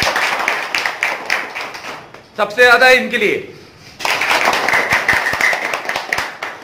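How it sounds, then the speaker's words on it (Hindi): Hands clapping in a classroom as students applaud two classmates, a short burst of claps about a second long between stretches of a teacher speaking in Hindi. "चलो इन दोनों के लिए ताली बजा देगा"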